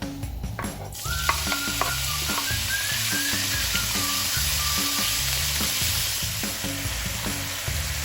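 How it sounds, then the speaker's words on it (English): Bacon frying in a few tablespoons of hot cooking oil for spicy Korean seafood noodle soup, a sudden loud sizzle that starts after a second and keeps crackling with light stirring knocks, close and without talk. "Once the oil is hot, bacon."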